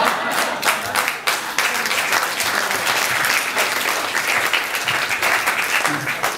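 Audience at a wedding reception applauding after a joke in a speech, dense steady clapping throughout, loud and close, with a little cheering mixed in.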